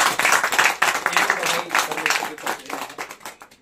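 A church congregation claps together in a sustained burst of dense, fairly close applause that continues for several seconds, slowly thinning toward the end, with voices mixed in.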